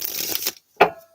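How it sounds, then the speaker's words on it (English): Tarot cards are riffled in a quick papery burst for about half a second, then after a short pause a single sharp snap as the deck settles, close and fairly loud. "All right, last shuffle."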